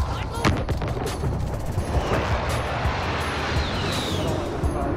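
Gunfire rattles through a Call of Duty Warzone match as overlapping bursts and single cracks at middle distance over a dense, rumbling battlefield background, with players talking over it.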